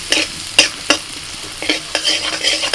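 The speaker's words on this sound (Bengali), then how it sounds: "কড়াইতে আমি অল্প সাদা তেল দিয়ে ওর মধ্যে প্রথমে দিয়ে দিচ্ছি রসুন কুচি, এবার দিচ্ছি আদা কুচি" Minced garlic and ginger frying in a little white oil in a wok, a steady close sizzle broken by sharp scrapes and clicks of a stirring utensil against the metal.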